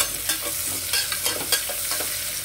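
Onions sautéing in a pan for soya chunk biryani give a steady close sizzle, broken by several sharp stirring scrapes at an irregular rhythm, with no talking.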